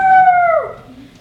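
A stage performer imitates a dog's howl with the voice, a single loud, close, sustained wail that slides downward and fades out near the end.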